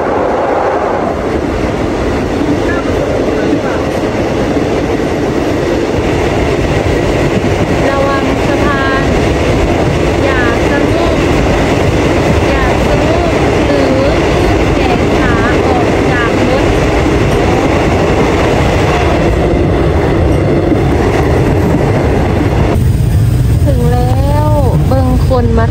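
A Thai passenger train rolls along the rails with a loud, steady rumble and rattle that lasts the whole time, while voices talk over the noise.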